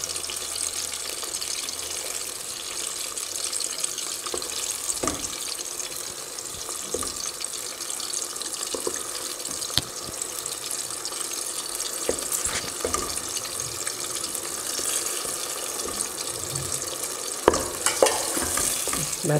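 Crushed tomatoes simmering and frying in a pan while being stirred, a steady soft sizzle broken by scraping utensil strokes and occasional clinks, with faint running water in the background.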